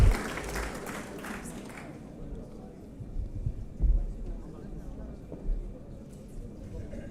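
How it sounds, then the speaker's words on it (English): An audience at an East African regional conference in Somalia claps in a burst for about two seconds, then the applause fades into a low, murmuring room rumble. "Please give him a big round of applause"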